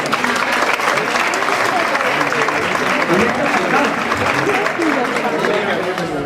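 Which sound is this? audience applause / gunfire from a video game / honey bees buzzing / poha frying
audience applause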